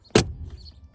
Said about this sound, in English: Handbrake on, or foot brake, e-brake, cable, and it releases.